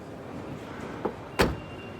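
A Cupra Leon FL hatchback's boot swings shut with a single solid thump after a faint soft knock, close by against quiet background, no speech.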